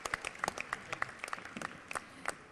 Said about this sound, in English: give the Wayne High School Junior ROTC Color Guard another round of applause